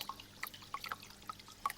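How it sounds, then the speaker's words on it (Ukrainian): Water drips from melting icicles during a thaw, a scattering of small, light, irregular plinks at close range with no talking. "що це так весело капає? Так, та це ж бурульки розстають"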